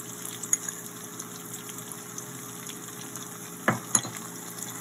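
Mustard seeds fry in hot oil with a faint, steady crackling hiss, broken by a few sharper pops near the end, with no voices.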